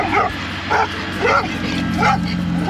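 Two dogs bark repeatedly while running beside a motorbike on a blind highway corner in Peru, with a steady engine drone underneath; about four loud, evenly spaced bark bursts sound close by.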